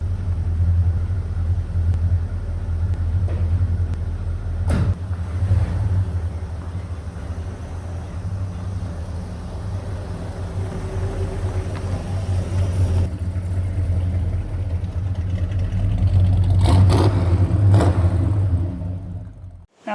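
A heavy tractor engine rumbles steadily at low pitch, with occasional clanks and brief surges as it works, close and continuous throughout.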